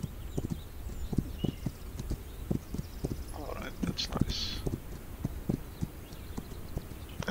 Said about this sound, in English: Let's leave the horse here.